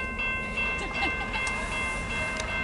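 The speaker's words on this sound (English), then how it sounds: "Yeah, it is a train." A train passes through Bulls Gap, Tennessee, its cars rumbling and clattering close by while steady whistle-like tones ring over the top; someone speaks briefly nearby.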